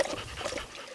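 Dogs panting rapidly and steadily up close, quick breathy huffs running without a pause, with no talk over them.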